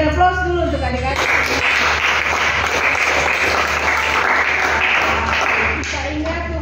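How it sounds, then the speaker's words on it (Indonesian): Applause from an audience at an English course closing ceremony honoring the students, steady dense clapping sustained for several seconds, with some talk at the start and end. "Kita berikan aplaus dulu untuk adik-adik."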